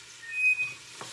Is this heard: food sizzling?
yes